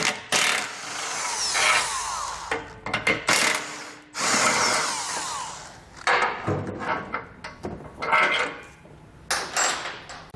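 A power tool pulls two 16mm bolts from the underside of a vehicle's tow hook while a base plate kit is installed, with loud whirring bursts separated by brief pauses and clanks nearby.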